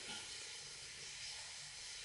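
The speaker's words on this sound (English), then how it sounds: "you can hear my thing that I'm reheating, like it's frying" Food reheating in a pan sizzles with a steady, faint, continuous hiss like frying, unbroken and alone for a couple of seconds.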